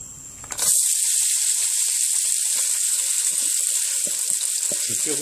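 Green onions, stems included, sizzle steadily in a hot pan after a sudden onset, a loud, even frying hiss with small crackles.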